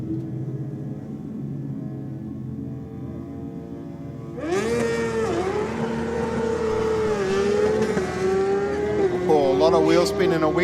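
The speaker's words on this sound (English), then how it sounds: "Wheel spin and a wiggle out of the bike in the Aeroflow lane" A drag racing motorcycle launches at Sydney Dragway with wheel spin, a loud engine scream surging in over a commentator's voice and wavering as it pulls away down the strip.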